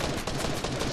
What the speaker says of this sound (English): Someone else is firing at him.